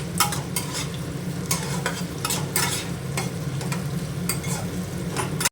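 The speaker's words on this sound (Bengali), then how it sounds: "এবার পেঁয়াজটাকে হালকা করে নেড়ে নিই।" Onions frying in a wok for chili chicken, stirred in brisk repeated scrapes over a constant loud, close sizzle.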